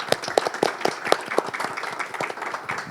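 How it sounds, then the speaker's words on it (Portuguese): An audience at an academic conference gives a short burst of scattered clapping, with individual claps clearly audible in an uneven rhythm, moderately close. "professor Ronaldo Mota, professor Diogo Cortiz, dar uma salva de palmas para eles."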